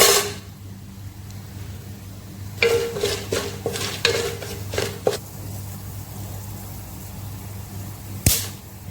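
Whole spices (two small cinnamon pieces, four cardamom pods, seven cloves and a teaspoon of black pepper) crackle in hot oil in a pan, with a steady low hiss, a burst of clatter and stirring, then a sharp knock near the end.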